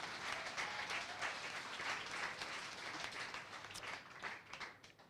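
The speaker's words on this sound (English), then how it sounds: "Round of applause for the staff." A crowd at an evening event applauds the staff, a sustained wash of many hands clapping at moderate distance, steady throughout with slight swells.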